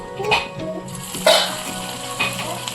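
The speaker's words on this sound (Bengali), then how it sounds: "এখন দিয়ে দেবো তেলে।" Chira pitha is lowered into hot refined oil and sizzles in a few distinct bursts of crackling frying, loud and close, with soft kitchen handling sounds between them.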